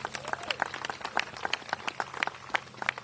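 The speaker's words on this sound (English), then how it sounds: "Let's give them a nice round of applause" A crowd at an outdoor park event during Pro Bowl week applauds Evans High School players, brisk scattered claps from many hands at moderate distance.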